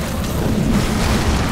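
Enemies exploding in Lara Croft Guardian of Light: a dense, loud, low rumbling boom that fills the short stretch without pause.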